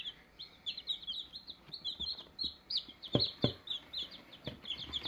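Backyard chickens, including wheaten Marans and lavender Ameraucana hens, give a steady run of high chirps and soft clucks close by, with a couple of sharper calls standing out midway and no talk.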